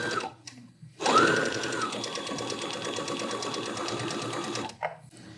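A Baby Lock Jubilant sewing machine runs in a steady stitching burst, a rapid, even mechanical whir and clatter that starts abruptly, holds for several seconds up close, then stops.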